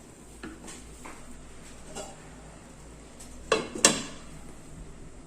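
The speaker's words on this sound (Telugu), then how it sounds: "ఒక 1 మినిట్ మూత పెట్టేసి ఉంచుకుందాం" A lid clinks down onto a pot of sweet pongal (chakkera pongali) in a home kitchen: two sharp metallic clatters close together near the end, after a stretch of quiet, faint kitchen rustling.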